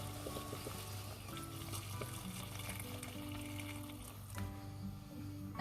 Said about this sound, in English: I'm adding water, from hot boiling water from the kettle straight.